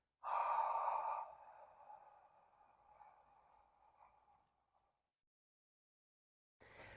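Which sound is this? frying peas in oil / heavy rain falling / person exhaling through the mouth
person exhaling through the mouth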